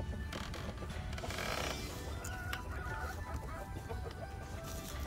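Backyard hens cluck and cackle around the nest after laying eggs, busy overlapping calls near and far over a steady outdoor background, with no talking.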